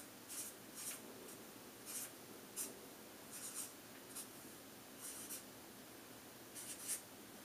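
Pen or pencil writing numbers by hand on paper, quiet close scratchy strokes coming in short irregular bursts with brief pauses between them.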